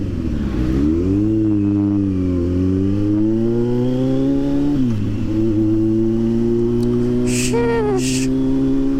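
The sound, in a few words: Kawasaki Z900 SE motorcycle engine accelerating in low gear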